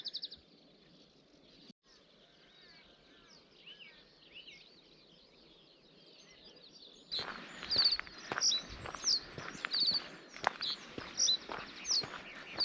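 Birds chirp and sing along the Wick River path in Caithness, with faint calls at first giving way to a burst of bright, repeated tweets close by, mixed with rustling and footstep-like thuds.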